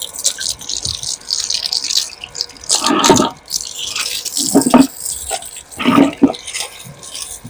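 Water running and splashing from a hose pipe as it is rinsed, irregular gushes and drips at close range, with voices talking in between.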